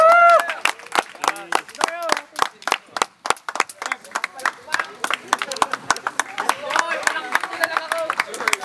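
A crowd claps in quick, uneven bursts while people talk and cheer over it, close by and lively throughout.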